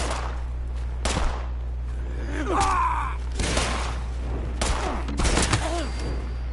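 Enemy gunfire crackles through a PS4 shooter, a series of sharp shots in bursts of several, with grunts and game effects between them and a few spoken words.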